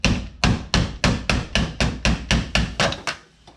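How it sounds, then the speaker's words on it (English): Hammer blows strike a Jeep TJ wheel during an install, about nine sharp metallic whacks in a steady rhythm roughly every half second, loud and close, with the last one trailing off into quiet. "We'll try a hammer."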